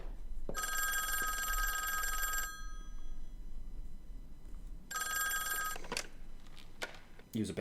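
A telephone rings in a Squid Game episode, two long bursts of a bright electronic ring separated by a pause, heard over a low background hum with some faint movement sounds.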